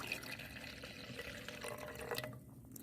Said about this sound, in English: We're going to pour in our green liquid.